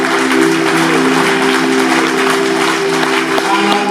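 A church congregation applauds and cheers the Lord in dense, continuous clapping and voices, with sustained music ringing underneath throughout.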